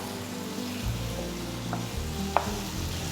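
Two finely chopped tomatoes sautéing in hot oil with spice powder for an egg curry, a steady close sizzle and fry with brief stirring clinks, no talk.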